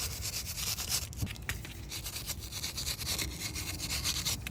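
A steel brush scrubs a rear brake caliper from a 2012-2016 BMW 328i, close, steady rasping strokes with a few sharper scrapes, continuous and unaccompanied by speech.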